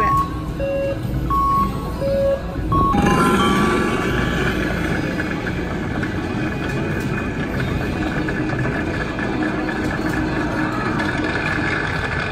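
A Wheel of Fortune Double Diamond slot machine plays a run of electronic beeps, then a bonus spin kicks in with busy, bright casino jingles and clatter that carry on steadily under a noisy room.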